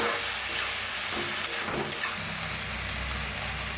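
Dal and chopped onion stirred and roasted in hot oil, a steady close sizzle with scraping stir strokes throughout and no talking.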